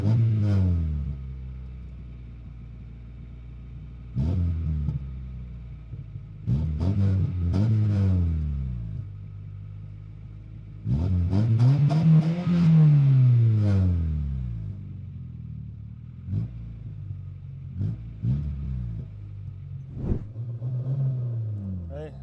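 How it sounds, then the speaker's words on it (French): Volkswagen Golf 3 petrol engine with a holed exhaust silencer starts and is revved in several bursts, each rising and falling in a rough, throaty drone that swells loudest around the middle. "je vais vous montrer un petit peu le démarrage, le bruit qu'a fait, avec le trou qu'il y a dans l'échappement"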